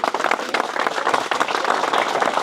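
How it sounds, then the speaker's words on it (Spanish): An audience claps together in a dense, steady round of applause after a presentation, loud and close throughout with no pause. "Así que un aplauso"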